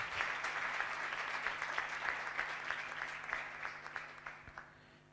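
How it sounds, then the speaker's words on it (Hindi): A church congregation claps in warm welcome for a preacher, many hands close together in a steady, dense patter that lasts throughout and fades slightly toward the end, with a faint hum underneath. "जोरदार तालियों में कलाम को वेलकम करें।"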